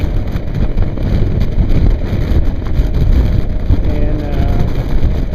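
Motorcycle cruising at about 70 mph on a highway, with steady, loud engine rumble and heavy wind buffeting throughout, no pauses.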